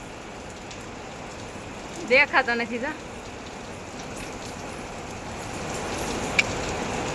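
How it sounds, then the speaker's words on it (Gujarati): Heavy rain pours down as a steady, dense hiss on surfaces near a home in the evening, loud and unbroken throughout, while someone speaks briefly over it and a single sharp drip or tap stands out near the end. "કેટલો બગડા સટી બોલાવે છે વરસાદ"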